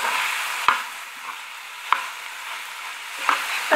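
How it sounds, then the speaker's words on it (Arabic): Onion filling with spices frying in a pan, a soft continuous sizzle broken by a few sharp scraping knocks of stirring, close and moderately quiet with no talking. "طحنينا هاد البصل مزيان وطيب، صافي يطيب لينا البصله."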